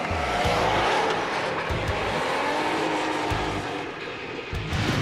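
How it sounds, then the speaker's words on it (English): Subaru rally car driving hard on an off-road rally course, its engine roaring loud and close throughout with rising and falling revs and gravelly rumble. "So far, that was a pretty good display of the vehicle handling, Wiley."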